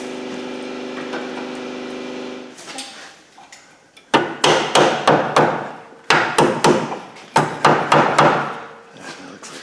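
A steady hum fades out, then rapid repeated hammer blows ring out in three quick bursts, sharp and close.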